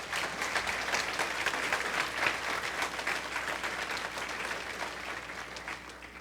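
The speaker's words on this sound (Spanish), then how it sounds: "Un aplauso al Señor desde ahora." A church congregation breaks into sustained applause, many hands clapping in a dense, even wash that holds steady for several seconds and eases slightly toward the end, with no speech over it.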